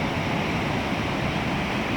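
A small waterfall near Pemberton in winter, with ice around it, roars as a dense continuous rush of falling water, steady and fairly loud without any talk.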